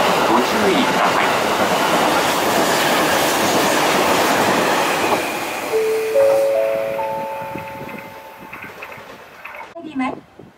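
A train roars loudly past a station on the Shinonoe Line with rushing wheel noise and a brief high squeal, then fades away, leaving quieter platform sounds.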